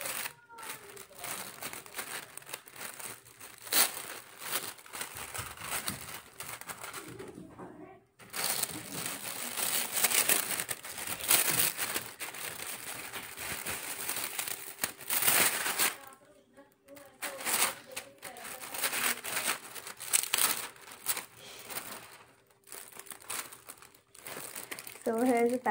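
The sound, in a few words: unwrapping a gift, crinkling wrapping paper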